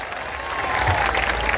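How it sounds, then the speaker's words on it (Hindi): Applause from a large crowd at a Rajput community gathering, a steady dense wash of clapping that holds for the whole moment with a slight swell partway through. "अपने लिए तालियां मारो"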